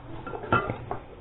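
A whisk beats sugar in a mixing bowl for madeleine batter, giving a few soft, scattered clinks and scrapes against the bowl, fairly faint and close.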